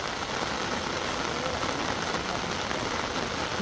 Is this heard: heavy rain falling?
yes